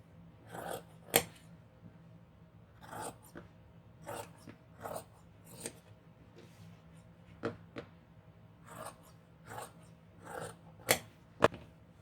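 Fabric scissors cut out the pieces for a dress with flutter sleeves: about a dozen short, crisp snipping bursts close to the microphone, irregularly spaced with quiet pauses between them.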